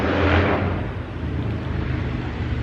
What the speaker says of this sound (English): Somebody with a really loud motorcycle.